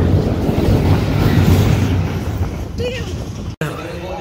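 A loud, rumbling mine train roller-coaster ride at Six Flags Over Georgia on a rainy day clatters and roars, with voices shouting over it before a sudden cut.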